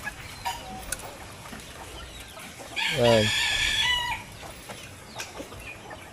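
Hungry chickens being fed cluck at close range, with a rooster crowing loudly midway through amid scattered clucks and brief talk.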